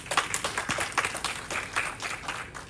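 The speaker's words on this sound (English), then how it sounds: "Please give him a round of applause." Applause at a Masonic lodge officer installation ceremony, a small group clapping close by, irregular claps in a short steady burst that tails off.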